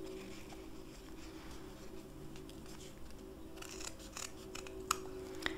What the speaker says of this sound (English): You just take your scissors, cut off that corner, and look, gives you that nice dovetail